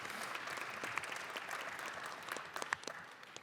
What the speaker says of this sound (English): Clap for Texas A&M